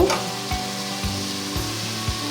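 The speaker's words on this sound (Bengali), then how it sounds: "ভালোভাবে কষিয়ে নিব।" Spices being sautéed in a pan for a bottle gourd curry, with a steady close sizzle of frying and a few soft stirring knocks spaced about half a second apart.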